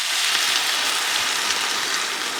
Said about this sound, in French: Je vais les déglacer avec du vin blanc, vegan, que j'ai acheté chez Noz.